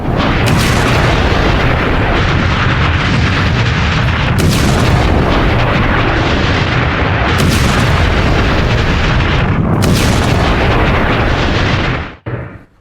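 A series of heavy, loud explosive blasts from a drug boat being blown up, sustained roaring booms with several sharp bursts recurring, before cutting off abruptly.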